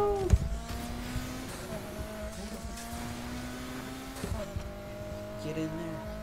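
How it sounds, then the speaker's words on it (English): A car in the racing game Need for Speed Heat drifts and fishtails, its engine droning steadily with tire squeal and scraping bursts. A player is talking over it. "It fucking fishtails every time I do a drift"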